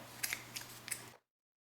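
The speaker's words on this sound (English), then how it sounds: "Then I'll cut this yarn." Scissors cut a strand of crochet yarn, giving a few quiet, close snips in quick succession before silence.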